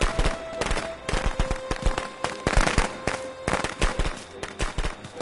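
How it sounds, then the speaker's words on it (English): Firecrackers go off inside a house in the Friday the 13th video game, a loud, rapid, irregular string of cracks and pops that fills the whole stretch with no pause. "She just fucking set off firecrackers in the house!"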